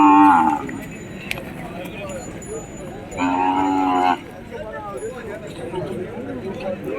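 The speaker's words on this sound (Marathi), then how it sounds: "आदात वासरं आहेत." Cattle and calves at a Monday bullock market low and moo, with one clear drawn-out moo in the middle and a shorter call at the start, heard close amid people talking and general market bustle.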